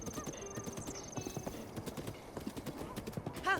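Horse hooves clip-clop in a steady trotting rhythm in a video game, with a brief neigh and other faint game sounds layered in.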